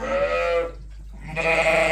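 Sheep and lambs bleat loudly in a lambing barn, two long overlapping bleats close by, separated by a brief quieter gap.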